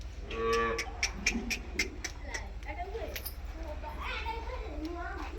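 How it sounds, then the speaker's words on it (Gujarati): A cow lows briefly at the start amid a village farmyard in Banaskantha, Gujarat, with children chattering and a few sharp knocking sounds. "આ બધી ગાયો કાપણ છે"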